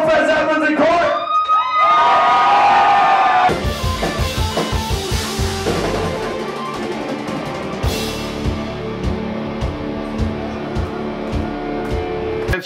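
A crowd at a small rock gig at Fred Zeppelins, a tiny venue in Cork, cheers and screams loudly, a dense roar at the start that gives way to scattered whoops and clapping with music underneath.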